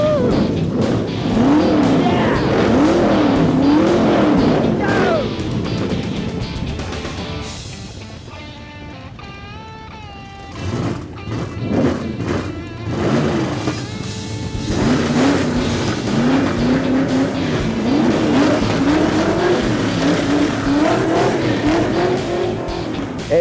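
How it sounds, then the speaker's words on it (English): Hot rod car engines fire up and rev hard together, a loud, continuous roar with rising and falling revs and brief tire squeal, dipping for a moment mid-clip before surging again. "start your engines!"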